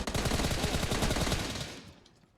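Rapid automatic gunfire in the battle royale game PUBG, a loud close burst of repeated shots lasting under two seconds before trailing off into quiet.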